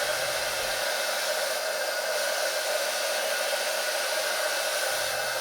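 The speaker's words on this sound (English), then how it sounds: "Painting with a PFS 3000 would also be far quicker than painting with a roller if you can use the big nozzle, the high paint flow and the high airflow" A Bosch PFS 3000 paint sprayer runs while spraying masonry paint, giving a steady, loud, airy motor blow with an even hiss and no pauses, heard alone throughout.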